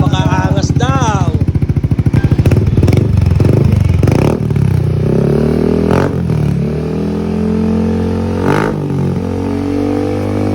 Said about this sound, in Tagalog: sound check tayo, nakabit na yung GP2 carbon